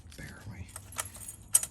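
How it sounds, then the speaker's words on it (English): Thule or Yakima bike lock keys jangle in a shop while stock is unboxed, giving a few bright metallic clinks and rattles close by, with faint sounds in the background. "hopefully we'll have a run on Fool or Yakima bike lock keys"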